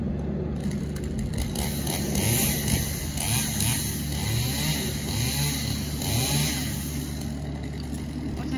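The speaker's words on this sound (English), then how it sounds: "Tractor." A tractor engine drones at a low pitch throughout, with a rising and falling motor note, fairly close and moderately loud, in an apple orchard during tree pruning.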